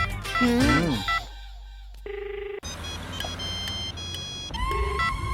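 Telephone keypad tones sound in short steady beeps, mixed with brief bursts of voice and background noise.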